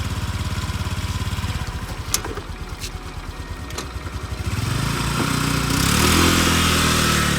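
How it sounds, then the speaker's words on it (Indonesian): Motorcycle engine fitted with an automatic face-recognition start system running steadily, then rising into a louder, fuller idle partway through, with a few sharp clicks early on and no talking. "motor pun akan menyala secara otomatis dan motor siap digunakan."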